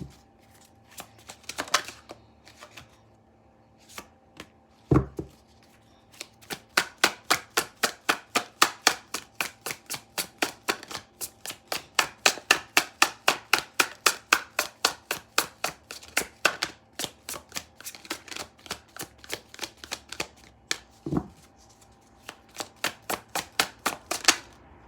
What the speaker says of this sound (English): So just give me a moment to shuffle.